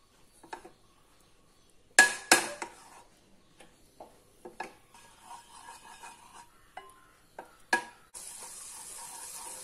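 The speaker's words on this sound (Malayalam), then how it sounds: "ആദ്യം നമുക്ക് വെണ്ണ ഇടാം. ഇതൊന്ന് ഉരുകട്ടെ." Butter melting in a pan for a white pasta sauce, with soft intermittent sizzling, scattered clinks and scraping knocks of utensils, and a brief hissing burst near the end; no talking.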